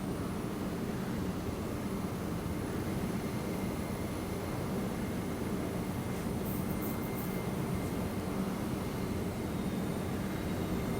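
An F-14 Tomcat jet engine spooling up during a cold start in MSFS2020, a steady, even roar with a faint high whine layered on top, without talk.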